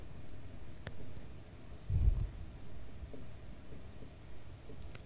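Chalk or marker writing on a board during a ninth-grade geometry lesson on quadrilaterals, faint scratchy strokes with a brief louder tap, under a quiet room hum.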